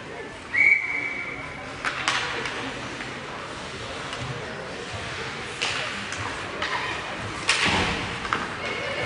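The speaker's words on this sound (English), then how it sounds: "the ref didn't see it, so he blew the whistle" A referee blows a single short, sharp whistle at an ice hockey game, followed by scattered thuds of pucks and boards against a busy rink background.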